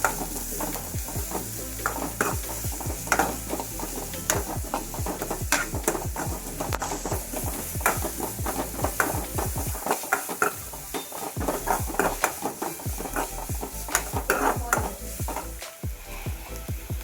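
Malabar spinach stems and prawns frying in a pan, a continuous close sizzle broken by frequent scraping stirs of a utensil against the metal, with occasional clinks.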